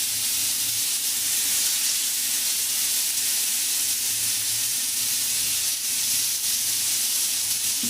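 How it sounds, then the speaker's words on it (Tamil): Rock fish fries in hot oil on a flat pan, giving a loud, dense, even hiss of sizzling that holds steady from start to finish with no talking. "எண்ணெய் சூடானதும் ஃபிஷ் ஒன்று எடுத்து வச்சுக்கலாம்."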